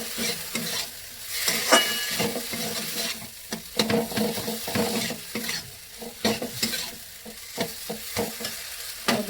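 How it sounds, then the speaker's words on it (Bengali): Boiled, mashed potatoes being stirred into frying spices for an egg and pointed gourd korma, with repeated scraping strokes of a spatula in the pan over a soft sizzle, close and fairly quiet. "ভালো করে মশলার সাথে মিলিয়ে নেবো"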